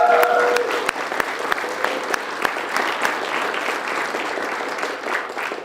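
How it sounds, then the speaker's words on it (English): Audience applause for volunteers at a gathering, a dense steady wash of many hands clapping that carries on at full strength, with a few sharper individual claps standing out early on. "can we get a round of applause for our volunteers?"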